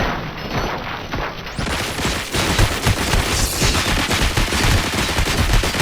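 Sustained, dense gunfire in RoboCop: Rogue City, loud and continuous rapid shots with heavy low thumps throughout.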